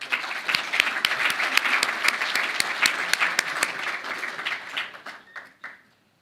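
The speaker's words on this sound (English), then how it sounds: "please give all our candidates a big round of applause because they're all winners" Applause at a world boxing congress in Rome for the election candidates: sharp individual claps over a dense patter, fading out near the end to a few last claps and then silence.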